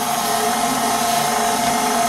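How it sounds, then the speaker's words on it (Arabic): A steady, continuous motor whine with a constant high tone from an electric mixer making brioche dough, running alone at an even level throughout. "اشغل الخلاط شوية صغيرين كده"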